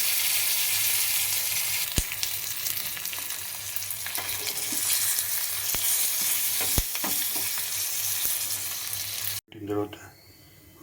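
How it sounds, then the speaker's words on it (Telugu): Cumin, dried red chilies and asafoetida temper in hot oil for a celery-leaf dal, giving a loud continuous close sizzle with a few sharp stirring clicks before it suddenly cuts off near the end. "అన్నీ కలిపి పోపు పెట్టుకున్నాం."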